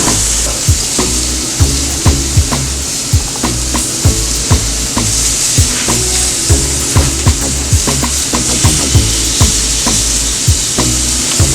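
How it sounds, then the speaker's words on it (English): Jackfruit sears and sizzles in hot olive oil in a pan, a loud steady frying crackle with repeated sharp taps and stirring clatter throughout, no voices. "once you put it in, you can hear that sear"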